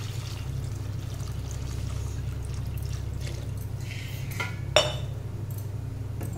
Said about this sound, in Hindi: हम 1 लोटा इसमें पानी डालेंगे।